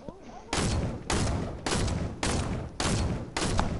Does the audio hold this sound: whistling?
no